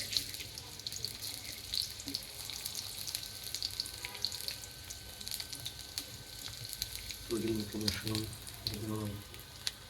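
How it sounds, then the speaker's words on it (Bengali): Chopped onions frying in hot oil in a wok for a carrot, bean and potato stir-fry, a quiet continuous hiss with occasional crackles, and a brief voice murmur near the end. "গরম হওয়ার পর পেঁয়াজ কুচি দিয়ে দিলাম।"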